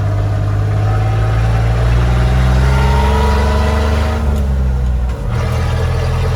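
A Willys Jeep CJ5 fitted with a 4.3L Chevy V6 drives uphill, its engine a loud, close, steady drone with a deep rumble that shifts slightly in pitch near the end.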